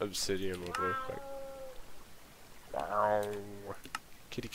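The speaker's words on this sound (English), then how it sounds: "Kitty cat." Two drawn-out cat meows in the Minecraft video game, each a bright rising-falling harmonic cry, spaced a couple of seconds apart with a voice talking in between and under them.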